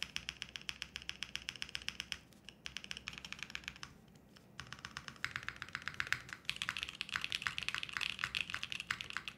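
Typing on a custom-built mechanical keyboard, a dense run of crisp, close clicks and clacks with brief pauses, louder bursts near the end and no voices.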